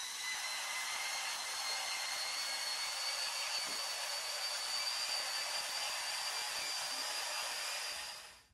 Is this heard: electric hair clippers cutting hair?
yes